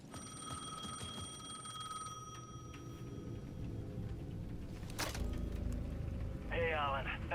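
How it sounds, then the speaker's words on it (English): In the video game Alan Wake 2, a payphone at the edge of a plaza rings with a repeating electronic bell tone over a dense ambient game soundscape, then a sharp hit and a brief trill follow. "The payphone at the edge of the plaza was ringing again."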